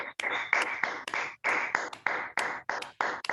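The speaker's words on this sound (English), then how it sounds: "Let us give a good round of applause to Toastmaster Abhirama." Short bursts of clapping at a Toastmasters club meeting for the Toastmaster, sharp and close, starting and stopping in rhythmic chunks as if over a call with gated audio.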